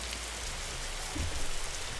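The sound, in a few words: rain weather effect in Unreal Engine 5 game level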